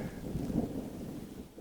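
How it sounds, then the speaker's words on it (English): Distant thunder rolls low and muffled over the GR20 trail in Corsica, a brief rumble blended with wind buffeting the microphone. "A little thunderclap, but it's not so close, so should be fine."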